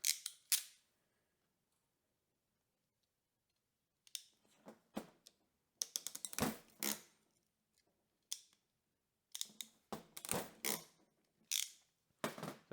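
A crimping tool squeezes terminals onto a DIY spotlight wiring harness, making sharp mechanical clicks and snaps in short bursts separated by quiet pauses, with no talking.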